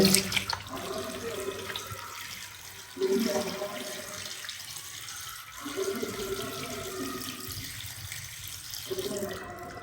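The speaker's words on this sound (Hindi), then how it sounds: "पानी डालेंगे।" Water poured into a bowl of chicken pieces marinating with vinegar, baking soda and salt, a steady splashing stream running in bursts over several seconds, close and moderately loud.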